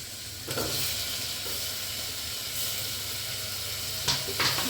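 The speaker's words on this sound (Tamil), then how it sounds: "வெங்காயம் நல்லா வதங்குற வரைக்கும் ஹை ஃப்ளேமில் வச்சு வெங்காயத்தை நல்லா வதக்கணும்" Onions sauté over a high flame in a pan, making a dense, constant sizzle close by, with a couple of brief stirring clatters and flares of hiss, and no speech.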